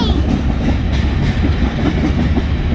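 A BNSF freight train rolls past at close range near the USAF Academy, a loud steady rumble with rhythmic clickety-clack of wagons over the rails filling the whole stretch.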